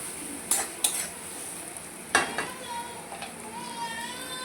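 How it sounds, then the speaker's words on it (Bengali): Spiced potato and fish curry in a pan after water has been added, a soft simmering hiss broken by a few sharp utensil clinks and scrapes close by. "দেখুন, আমি জল অ্যাড করে দিয়েছি।"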